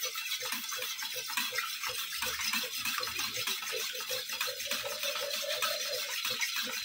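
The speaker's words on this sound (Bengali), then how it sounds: "এটাকে ভালো করে আমি ফেটিয়ে নেব।" Egg beaten with a little salt in a bowl, a steady fast rhythmic clatter of whisking that runs continuously and fairly loud throughout, with no talking.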